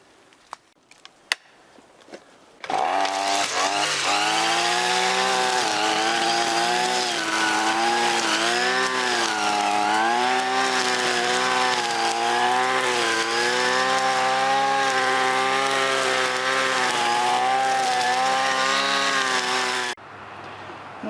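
A vintage string trimmer's small two-stroke engine roars steadily for about seventeen seconds, close and loud, with a slight wavering in pitch, after a few faint clicks and before an abrupt cutoff.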